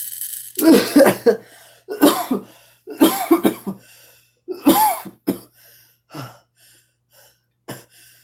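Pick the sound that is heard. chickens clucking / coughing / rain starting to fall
coughing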